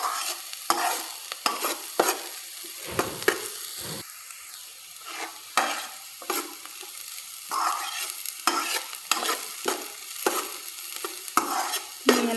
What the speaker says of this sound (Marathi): मी याला छान असं परतून घेते.